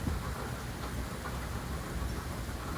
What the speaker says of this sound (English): But it's raining right now.